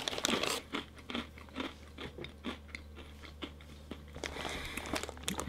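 Loud, close crunching and chewing of a crispy, sweet and spicy Korean puffed noodle snack, irregular bites and crackles over several seconds with no talking.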